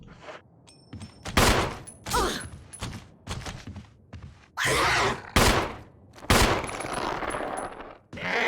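Shotgun blasts from the Resident Evil REmake game, several loud booming shots spaced irregularly over the stretch, each with a sharp attack and a short rumbling decay, with no talking.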